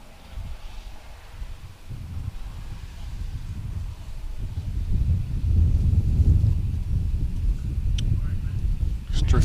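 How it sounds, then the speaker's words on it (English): Wind gusting outdoors at a lawn bowls match, a low rumbling buffet that swells and grows louder toward the end, with faint clicks near the close. "Just got a bit of a gust there, actually. Yeah, so you can hear it."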